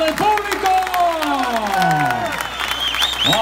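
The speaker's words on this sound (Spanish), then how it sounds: "¿Dónde está el aplauso del público?" An audience at a Basque cycling tribute event bursts into loud, continuous applause and cheering, with whistles and shouts cutting through the clapping for a few seconds.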